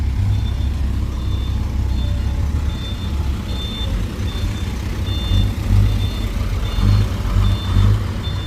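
Heavy machinery rumbles steadily at a soil pit as a backhoe excavator works the ground, with a low diesel drone throughout and a faint repeating high beep in the background.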